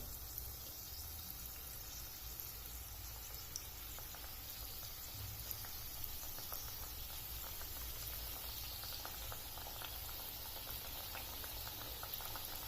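Urad dal papad vadi frying in medium-hot oil, a dense, even bubbling crackle that holds steady and fairly faint throughout, with no voices.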